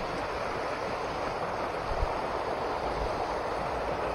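Steady broadband rush of mountain river water flowing near a trekking trail in Uttarakhand, a continuous close wash with no talk.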